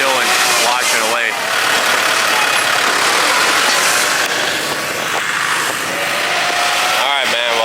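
Tractor engine running steadily while it flattens a load of rocks on a dirt site, a loud continuous mechanical drone with talk over it.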